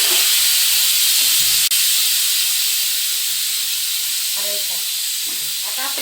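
Coriander seeds dry-roasting in a pan for stuffed sandgi chillies: a loud, continuous hiss and sizzle fills the whole stretch, with a few faint clatters and murmurs underneath.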